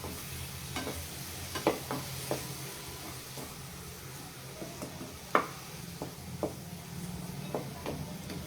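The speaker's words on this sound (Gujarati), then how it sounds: "આપણે તેમાં ઝીણા ચોપ ટમેટા એડ કરશું અને તેને પણ સરસ રીતે મિક્સ કરી લેશું." Frying onions and finely chopped tomatoes stirred in a pan, with a low continuous sizzle and many light, uneven spoon taps and scrapes, close and moderately quiet, no talking.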